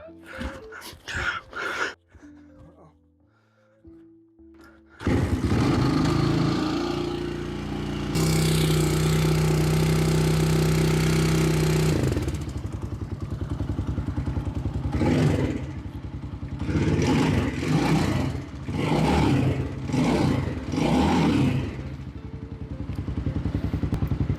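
A motorcycle engine is started with the choke on after the seat and the tank-to-carburetor fuel line are refitted. It catches loudly and runs in a steady idle, with several sharp revs rising and falling near the end.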